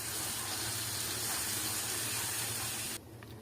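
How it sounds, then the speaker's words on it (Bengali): Milk poured into hot cooking masala for a paneer curry, giving a loud steady sizzling hiss that cuts off sharply near the end, leaving a faint bubbling. "এরপরে আমি এই দুধ ঢেলে দেবো, অল্প অল্প করে দেবো, দিয়ে নাড়তে থাকবো"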